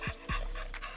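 A wet, dirty dog chained by a fence barks and yelps in loud, close bursts, several sharp calls spread across a second with panting between.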